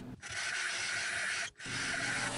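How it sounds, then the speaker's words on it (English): A flat file rasps across wood to smooth away bandsaw marks on a headphone holder, two long close strokes separated by a brief gap, with no talking. "I switch over to a flat file to smooth out the bottom and get rid of all the bandsaw marks"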